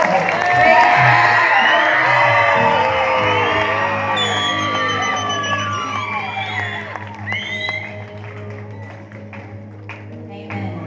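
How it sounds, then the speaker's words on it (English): A crowd at a graduation ceremony erupts in loud whooping, shouting and cheering that gradually thins out, with applause and scattered voices continuing underneath. "can we give the DTS class a hand clap and a shout?"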